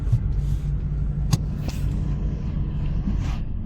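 Car driving along a road in Estonia, a steady low engine and tyre rumble heard from inside, with a brief click partway through and no talk.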